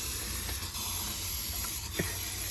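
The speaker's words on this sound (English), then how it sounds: "Just spray down in the valley." Aerosol spray can hissing steadily into the valley of a Chrysler 200 engine, close and continuous with a couple of brief sputters as the nearly empty can runs low.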